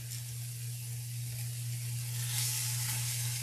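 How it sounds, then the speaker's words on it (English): Meat sizzles steadily while browning in a long-used pot for an Easter meal, a continuous close frying hiss that swells slightly near the end, under a constant low electrical hum. "I just want to make sure that I'm getting some nice browning on the outside"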